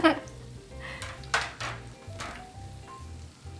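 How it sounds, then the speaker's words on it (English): Metal tongs scraping and clinking against crispy fried doughnuts over a low background hum. The scrapes come in several short, bright strokes in irregular rhythm, close to the microphone. "when you hear them scrape the tongs against the top"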